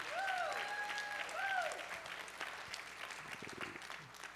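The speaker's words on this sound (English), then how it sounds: "Come on, let's give him a hand clap." Church audience applauding for the pastor emeritus, a broad wash of clapping with tonal sounds layered over the start, thinning out toward the end as a few isolated knocks come through.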